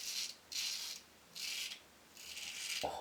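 A Razorock Black Oak safety razor rasps through stubble in four separate scraping strokes with the grain, each a crisp, close scratch with short pauses between, ending on a soft low knock.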